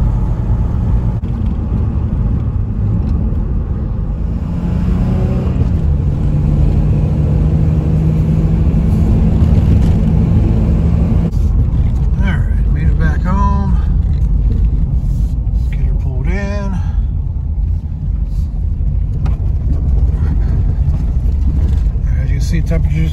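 A 2000 Chevrolet Camaro engine idling, a loud continuous low rumble close by, with a person talking over it through most of the stretch.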